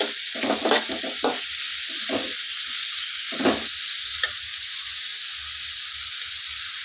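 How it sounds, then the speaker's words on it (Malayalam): Four medium sliced onions frying for a potato chicken curry, a loud continuous sizzle broken by several bursts of stirring and scraping in the pan. "സ്ലൈസായിട്ട് അരിഞ്ഞു വെച്ചിരിക്കുന്ന ഒരു മീഡിയം ടൈപ്പിലുള്ള നാല് സവാളയും കൂടെ ചേർത്ത് കൊടുക്കാം ചേർത്ത് കൊടുത്തൊന്ന് മിക്സ് ചെയ്യാം"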